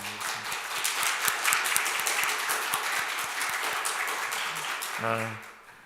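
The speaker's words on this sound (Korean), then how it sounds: "우리 한 번 더 감사의 박수를 드리겠습니다" A church congregation claps in thanks for a deacon who sang a hymn at Sunday worship, sustained moderate applause with distinct claps, before a voice begins speaking near the end.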